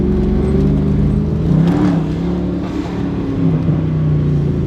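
A straight-piped Mercedes CL63 AMG idles with a deep, loud exhaust rumble and rises through a couple of throaty revs before settling back, steady and close throughout with no voices.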